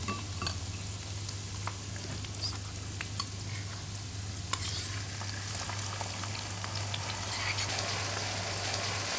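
Blended chili paste for traditional chili prawn frying in a pan, a continuous close sizzle and bubbling hiss with faint stirring, steady and unbroken with no talking.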